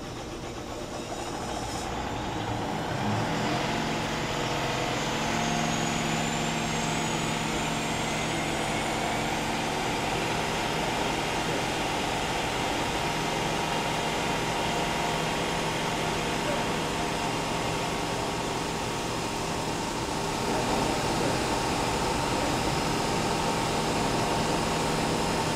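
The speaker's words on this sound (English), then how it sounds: "We're going to break in a diesel OPOC engine." A diesel opposed-piston opposed-cylinder (OPOC) engine cranks and then runs in a test cell, settling into a continuous droning hum with steady tonal whine that holds for the whole stretch.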